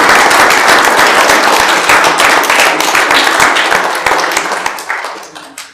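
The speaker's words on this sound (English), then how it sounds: "So, you ought to give them a round of applause." Audience applause at a township committee meeting, dense steady clapping from a crowd that gradually thins and fades out toward the end.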